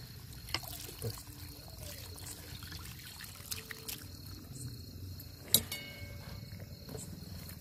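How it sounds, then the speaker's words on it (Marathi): Water left from boiling chicken trickles and pours into a pan at an outdoor farm cookout. The pour is soft and quiet, with a few light clinks and faint insect chirping in the background. "जेव्हा आपण चिकन उकडून घेतो ते पाणी टाकून घेऊया."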